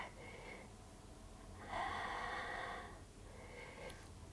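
Slow breathing during a seated yoga forward-fold stretch for the backs of the legs, a soft steady exhale swelling in the middle and easing off, close and quiet, with no talking.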